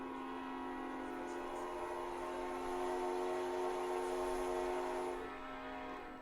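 A steam train horn in a snowy train video game sounds as one long steady whistle with strong tonal harmonics, held for about five seconds before cutting off, with no talk over it.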